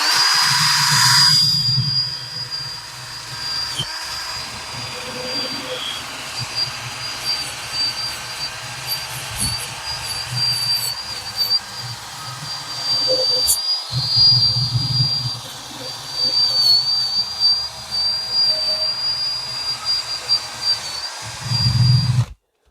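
A wire disc spun by a drill scrubs residue off a motorcycle front brake disc, making a loud, steady high whine with grinding rumble that runs almost unbroken for over twenty seconds before stopping abruptly.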